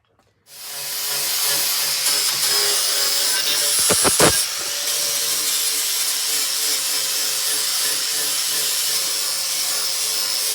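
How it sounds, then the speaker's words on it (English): Power sander working a piece of wood, a continuous close whirring and abrasive hiss that starts after a half-second of quiet and holds steady, with a short burst of harder rubbing near the middle. "Don't sand that bit there at the end because this is taking off a certain amount of the wood when it's doing it"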